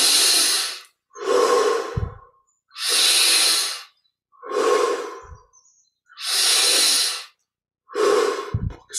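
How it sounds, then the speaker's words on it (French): Slow, deep breaths during guided meditation, with long airy exhales alternating with shorter inhales in a steady rhythm of about three full cycles, close and clear with silence between them. "Prenons encore des respirations pour le plaisir."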